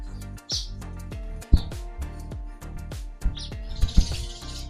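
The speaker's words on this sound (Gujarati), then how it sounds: "દેખાડું તમને છે પક્ષીઓનો અવાજ કાબર બેઠી છે જો અહીંયા" Common myna birds call near a village home, a lively run of sharp chirps, clicks and squawks in quick irregular bursts, close and fairly loud, with a few louder accents.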